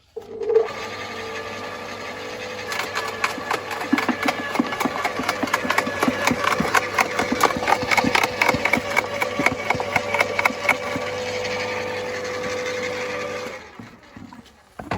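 A Ferrex GSR 2800 W electric garden shredder chews through dry branches, a loud steady motor hum broken by dense rattling, crackling bursts of wood being chipped, then winding down at the end.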